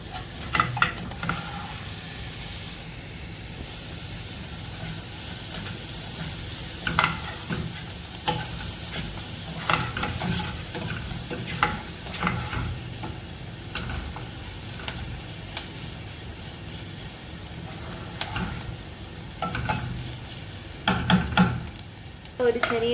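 Something sautés in a pan with butter until it turns pink for a mushroom soup, giving a continuous close sizzle and hiss broken by scraping stirs throughout.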